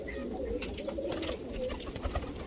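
Fancy pigeons, black males and tiny females kept in a loft, coo in low, soft, rolling phrases close by, with brief scuffles and background noise but no clear talking.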